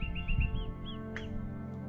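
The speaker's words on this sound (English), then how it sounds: "just the birds." Birds chirp at dawn in a remote mangrove forest, a series of short rising whistled tweets repeating close by, then one sharp higher call, over a quiet low background.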